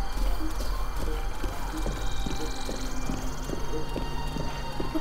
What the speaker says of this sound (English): It's so hard to slow this horse down.